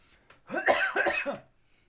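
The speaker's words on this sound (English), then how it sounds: "I've ended up back with this cough, and I'm really struggling today." A single close, harsh cough in a quiet room, a rough burst of several rapid chesty pulses lasting under a second.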